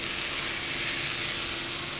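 Garlic tempering sizzles in hot coconut oil for an aloo capsicum curd curry, a steady close hiss filling the whole stretch with no break and no voices.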